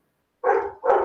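Two loud, close dog barks at a door in quick succession after a moment of silence.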